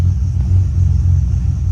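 Nissan 350z engine idling roughly, a loud, close, low rumble that wavers unevenly with a faint high whine above it.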